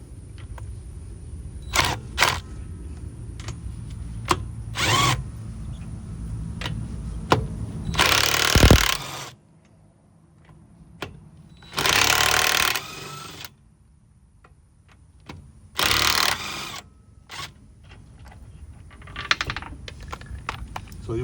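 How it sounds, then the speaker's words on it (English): An impact wrench tightens lug nuts on the rear wheel of a 2014 Camaro LS during a brake pad job, firing three loud, hammering bursts of a second or two each, with scattered clicks and handling noises between them. "I got an impact wrench, impact gun."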